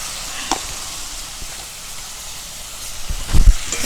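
Cumin and coriander spice paste with salt and a little water, frying with jackfruit for curry, gives a steady soft sizzling hiss up close, with a few faint clinks of stirring near the end.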